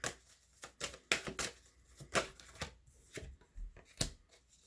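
Tarot cards riffled and drawn from a deck during a love reading, giving a string of short crisp flicks and slaps at irregular intervals, close and fairly clear with no talking.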